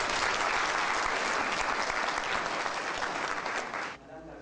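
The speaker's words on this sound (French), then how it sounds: "sous vos applaudissements" A congress hall audience of midwives in Burkina Faso breaks into loud, sustained applause for an official's address, a thick continuous roar of clapping that cuts off abruptly near the end.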